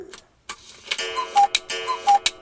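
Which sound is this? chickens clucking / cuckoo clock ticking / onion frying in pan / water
cuckoo clock ticking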